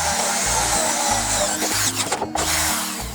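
An electric drill bores a hole through a plastic drum, its motor whining in steady bursts with brief pauses and a short rattling catch near the end, close and loud with no talk.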